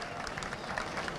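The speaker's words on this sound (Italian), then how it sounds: "Con un grandissimo applauso" Brief, dense applause from an audience welcoming a dance group onto a stage, steady crowd clapping at a moderate, somewhat distant level.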